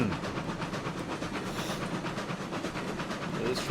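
A locomotive in the railroad game Railroads Online rolls and coasts downhill, making a steady rhythmic clatter of wheels with hissing steam, heard close and continuous.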